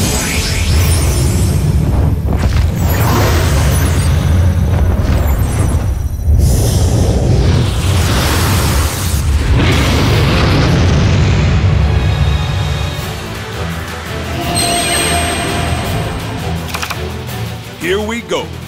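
Blue-Eyes dragon attack effect in Yu-Gi-Oh! Duel Links: a loud, sustained roar of booming blasts and sweeping whooshes that swells midway and then tapers off, with a voice speaking over it.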